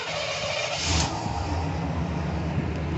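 A 1990 Chevy Silverado 1500 four-wheel-drive pickup with 170,000 miles idles close by, a steady loud rumbling drone with a slight swell in the first second and no talk.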